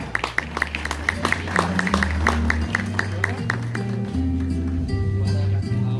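Applause for a student at a school graduation ceremony: a steady stream of hand claps from an audience fills the whole stretch at even loudness, over a sustained low musical drone.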